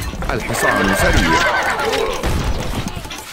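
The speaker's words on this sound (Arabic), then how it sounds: "الحصان سريع" A horse whinnies loudly in a long, wavering neigh in the video game Stronghold Crusader, close and prominent over a steady background, with faint hoof clatter.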